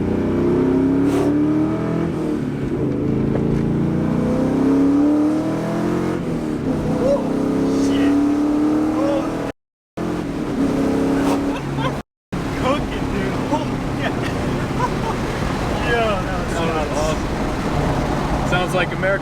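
A Ford Mustang 2V exhaust rumbles from inside the cabin, a deep muscle-car drone that swells and eases with the throttle, while people talk over it throughout.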